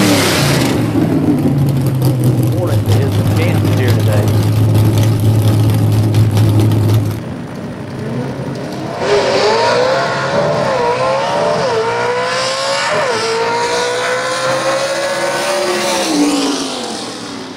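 A Southeast Gassers drag-racing car roars loudly at London, Kentucky, first a heavy droning engine, then a cut and a rising, wavering whine as it accelerates away down the strip.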